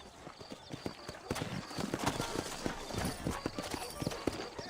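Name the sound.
horses' hooves clip-clopping in a video game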